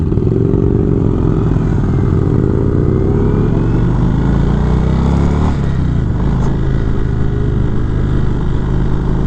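A 2019 Indian Springfield Dark Horse motorcycle cruising on a test ride, its engine a steady, loud, continuous rumble with shifting tone, heard close with wind noise and no talking.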